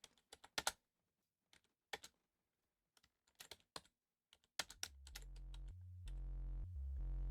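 Someone types in short, crisp bursts on a computer keyboard, close and clear in a quiet room, before a steady musical tone swells in toward the end.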